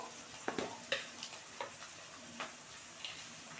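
Egg and yardlong bean mixture with turmeric and salt frying in a pan, a soft steady sizzle with a few sharper crackles and stirring scrapes, close and fairly quiet, no talking.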